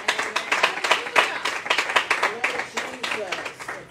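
A church congregation claps hands in a fast, steady rhythm close by, with a preacher's voice talking over the clapping throughout.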